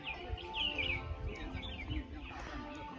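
Birds chirp and twitter repeatedly in a quiet karst sinkhole stone village in Guizhou, bright calls overlapping above faint background murmur.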